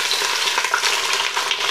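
Chopped onions and carrots frying in a hot pan give a steady, close sizzle with a few crackles and stirring scrapes, with no talking over it.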